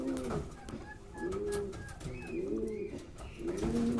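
Pigeons in a fancy pigeon loft give repeated low, rolling coos that rise and fall in a slow rhythm. The calls are close and overlap, and a faint chirp sounds in the background.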